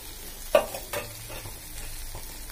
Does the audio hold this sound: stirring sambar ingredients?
yes